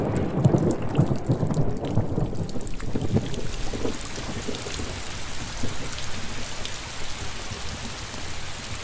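Heavy rain pours down steadily while deep rumbles of thunder roll through the first few seconds, leaving a dense, continuous hiss of downpour with no voices.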